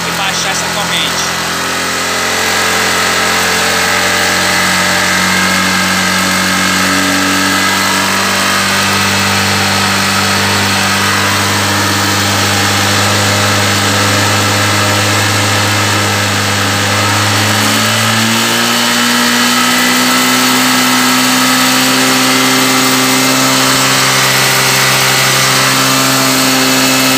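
A Honda CG 150 Sport motorcycle engine idles steadily and then revs higher partway through, a loud continuous drone that holds at each speed, heard up close in a garage setting.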